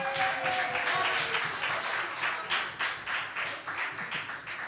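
An audience at a Christmas Eve church fellowship gathering applauds Sunday school teachers: sustained, fairly dense clapping from a crowd, moderately loud and steady throughout.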